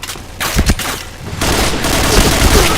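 Rapid bursts of gunfire ring out in the online shooter Point Blank, sharp shots at first and then dense, sustained firing, loud and close.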